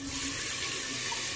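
Half a cup of water pours into a rajma mixture in a cooking pot, a steady splashing gush that runs continuously and close by, with no talk over it.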